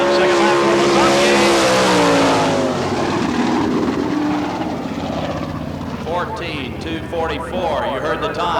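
A sprint car on a qualifying lap at a Florida Speedweek dirt track in Barberville, its engine howling loud and rising, then fading away, under a continuous announcer's commentary.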